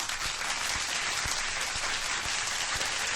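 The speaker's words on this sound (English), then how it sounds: "I want you to give a big round of applause and a warm welcome to Adrian" A studio audience gives a loud, sustained round of applause to welcome a UFC fighter as a guest, dense clapping that stays steady throughout.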